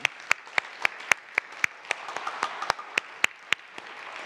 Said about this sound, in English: You clap for them.